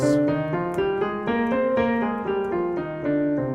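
A sequence of sustained modal keyboard chords moves steadily from one to the next, roughly two per second, with a haunting, unresolved quality.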